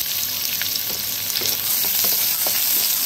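Sliced onion sizzles steadily in refined oil in a pan, a close, continuous frying hiss with a few faint pops and crackles throughout.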